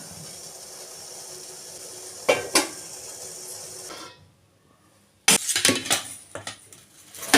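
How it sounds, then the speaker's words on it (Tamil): A steamer pot of green gram idli is opened. A steady steam hiss gives way to metallic lid and plate clanks, a short quiet pause, then more clattering of metal cookware close by. "பச்சை பயிறு இட்லி வந்து ரெடி ஆகிட்டானு ஓப்பன் பண்ணி பார்த்துடலாம்"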